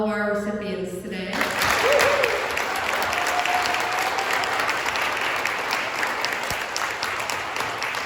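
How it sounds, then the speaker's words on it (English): An audience at a 2020 employee scholarship ceremony breaks into sustained applause for the recipients, dense clapping that starts after a voice on a loudspeaker and carries on steadily. "let's give one giant round of applause for all of our recipients today"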